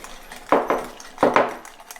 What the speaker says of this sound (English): We're just going to whisk it